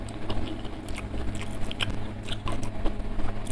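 Close-up eating of stir-fried mushrooms with lenca in a mukbang, soft wet chewing and light crunchy bites repeating irregularly with no talking.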